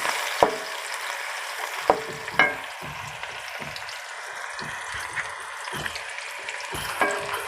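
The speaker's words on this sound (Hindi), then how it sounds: "तो इसको आस्ता से भूनते जाएंगे।" Chicken and bitter gourd (karela) fry slowly in ghee in a pan, a low constant sizzle broken by repeated spoon scrapes and clacks at irregular intervals, close and without speech.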